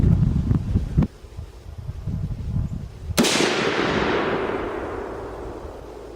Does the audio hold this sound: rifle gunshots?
yes